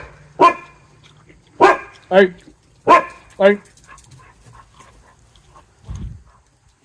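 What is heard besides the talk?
dogs barking and whimpering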